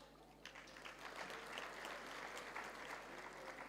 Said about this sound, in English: we really give them, all the local organizing committee, a round of applause